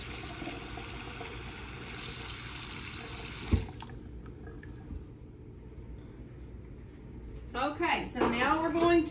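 A kitchen tap runs into a pot to cover potatoes for canning, a steady stream that cuts off with a clunk, followed by a quiet pause before a person starts talking.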